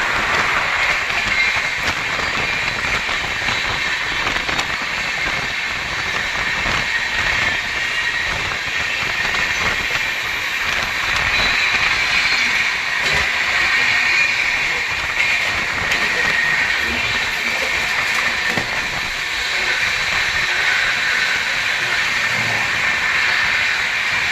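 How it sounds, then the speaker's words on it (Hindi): Two express trains run in parallel on the rails, one a Godda express, heard as a loud continuous rumble and rushing hiss close by, with no one speaking. "भाई बढ़िया पैरल चल रहा है अपनी दोनों ही ट्रेनों में।"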